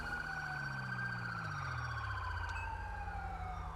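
An ambulance siren in the video game GTA V wails with a descending, sweeping tone over a steady engine rumble, loud and close throughout.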